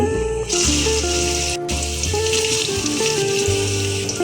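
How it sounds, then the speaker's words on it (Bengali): Hot water poured off boiled food into a sink or drain during iftar cooking in a home kitchen, a steady loud rush and splash with some low clanking of pots. "এখন আমি এটা নামিয়ে পানি ঝরিয়ে নেব"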